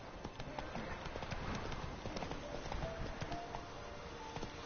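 Hooves of the horse Roach gallop in The Witcher 3 video game, a quick, rhythmic clip-clop under faint ambient noise that runs throughout at moderate volume.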